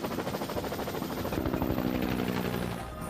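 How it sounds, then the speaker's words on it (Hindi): Helicopter flying and turning back, its rotor producing a loud, steady rhythmic thumping chop that shifts in tone as it banks, heard close with no talking. "हेलीकॉप्टर को वापस घुमा लो।"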